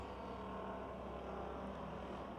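Amateur stock cars race at Pennsylvania Motor Speedway in Pittsburgh, giving a continuous, even roar of engines that holds steady throughout, with no voices.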